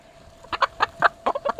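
A chicken clucks close by in a quick run of about eight short, sharp clucks, bunched in uneven bursts over a quiet background.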